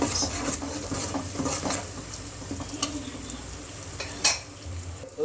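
Coconut, garlic and ginger masala for a fish curry fries in a pan with a soft crackling sizzle, broken by repeated scrapes and stirring clinks, one sharper knock near the end.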